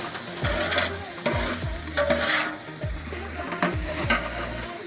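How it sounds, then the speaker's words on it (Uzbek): Onions sizzle loudly in a pot after ginger is added, while a utensil scrapes and stirs in a repeated rhythm, about once a second. "Zanjabil soldilar, piyozni qovurib oldilar"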